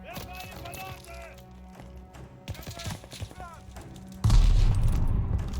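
Gunfire in the video game Call of Duty: Vanguard, a burst of sharp shots and booms that grows louder and denser toward the end, mixed with game sounds and faint talk.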